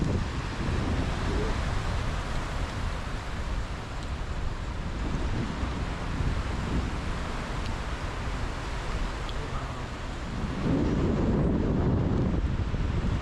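Sea waves wash onto the shore at high tide in Pinamungahan, Cebu, a continuous broad rushing roar mixed with wind buffeting the microphone, swelling louder near the end.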